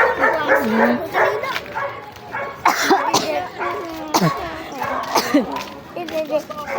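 Dogs bark and yip in short bursts close by, mixed with a whimper, while people talk over the noise.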